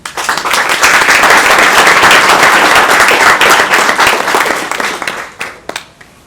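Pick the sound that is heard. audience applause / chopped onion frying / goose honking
audience applause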